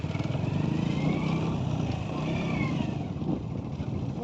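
A vehicle engine is held at full throttle near a pond in the hills, producing a steady, loud, buzzing drone that barely changes pitch throughout, with no speech over it.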